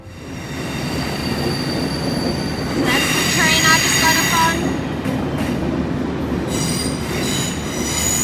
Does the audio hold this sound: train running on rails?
yes